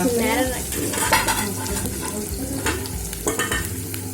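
Onions frying in a pan until golden brown for a homemade dal tadka, a steady close sizzle with frequent scraping stirs and light clinks of a utensil against the pan.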